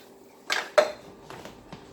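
A couple of sharp metallic clanks as pans are set down and shifted, followed by softer knocks, close by in a quiet kitchen.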